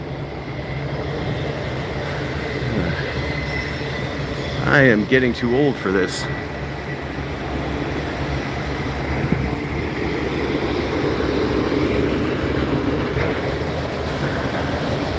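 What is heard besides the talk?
train passing behind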